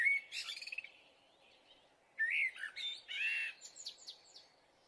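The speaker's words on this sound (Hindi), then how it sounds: "तो रास्ते में उसके पास एक चिड़िया उड़ती हुई आती है।" A cartoon bird flying in chirps and tweets in two bright clusters of quick, high calls separated by a short pause, close and clear over near silence.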